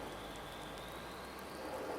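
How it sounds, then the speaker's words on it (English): Steady rain in a farming video game, a soft, even hiss of falling rain with a faint continuous tone running underneath, quiet and unchanging throughout. "Hasn't quit raining yet, which is quite surprising actually."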